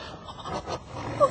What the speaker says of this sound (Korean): 호랑이 소리 맞죠?